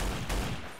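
A quick volley of video game gunfire in Trouble in Terrorist Town, dense and loud, with a sharp shot near the middle of the brief burst.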